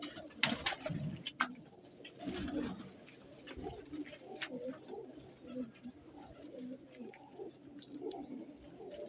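Diwan Sahib breed pigeons coo in soft repeated low phrases, with wing flaps and faint chirps nearby and occasional quiet voices.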